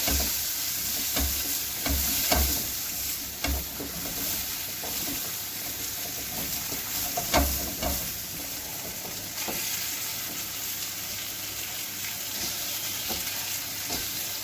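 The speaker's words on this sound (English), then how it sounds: "That's sizzling up there quite nicely." Food sizzles in a hot pan at a steady, close hiss, broken by occasional knocks and scrapes from stirring, with no voices over it.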